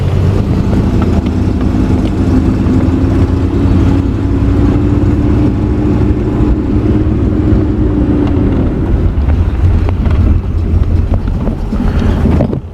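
A Jaguar car pulls away up the road on a first drive. Its engine hums as a steady low drone, with a rising then falling gear tone, and rumbling road and wind noise sits over it throughout.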